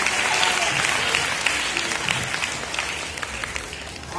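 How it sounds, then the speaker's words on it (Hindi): An audience at a school prize ceremony claps steadily, a dense wash of many hands applauding together that fades slightly toward the end. "कक्षा 11वीं में से प्राची वैष्णव, ताली बजाओ।"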